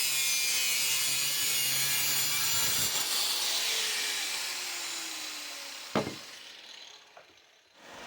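Square steel stock from a junk pile being cut into 3.5 inch pieces with a saw, a steady continuous grinding cut that fades near the end, followed by a couple of sharp clanks as a piece drops.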